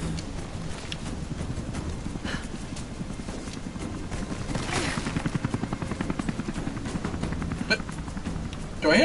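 A helicopter passes overhead in Rise of the Tomb Raider, a dense, roaring rotor wash that swells into rapid rhythmic chopping, with scattered bursts of gunfire over the noise.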